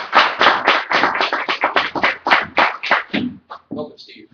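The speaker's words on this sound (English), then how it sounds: "please give a round of applause for Steve Scheetz" Audience clapping to welcome speaker Steve Scheetz, a quick run of distinct, evenly spaced claps from a few nearby hands that slows and thins out after about three seconds.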